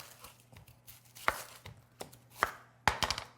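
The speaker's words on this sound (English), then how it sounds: "I'm just gonna start chopping since I already touched the beef and the cutting board is already full of stuff" Onion being chopped with a knife on a cutting board, a few sharp, close knocks spaced irregularly over quiet background, no talk.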